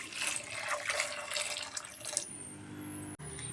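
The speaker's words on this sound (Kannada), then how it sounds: "ಮತ್ತು ನೀರು ಹಾಕ್ಕೊಳ್ಳೋಣ." Water runs and splashes into a pot of temple-style rasam being cooked, a steady pour that thins out and stops near the end with a brief clunk.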